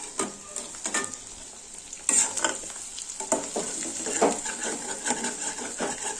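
Six or seven country chicken eggs fry in oil in a kadai, a steady sizzle broken by repeated scraping stir strokes close up, with no voices.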